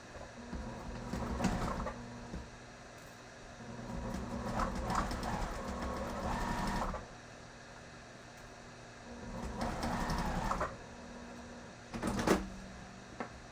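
A sewing machine stitches fabric about an eighth of an inch from the edge, running over pins, in several separate runs of steady mechanical whirring separated by quieter pauses, with a short final burst.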